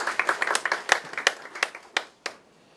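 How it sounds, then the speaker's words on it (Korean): Applause from a seminar audience at a real estate finance policy forum in Korea, a few people clapping briskly and then thinning to scattered last claps; no talking. "박수 부탁드립니다."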